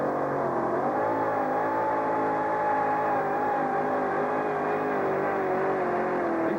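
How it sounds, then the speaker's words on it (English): A race car engine at a drag racing event in Anaheim, a loud sustained roar with a wavering, slightly falling pitch as it revs and holds, constant and dominant with no talk. "Bob Borba is really going to turn the noise level up here in Anaheim right now."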